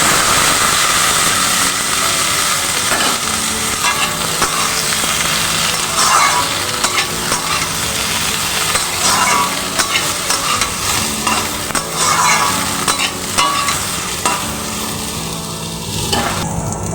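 Papaya and potato pieces tossed in with fried onions, filling the pan with a loud, dense, continuous sizzle and steady scraping stirs throughout.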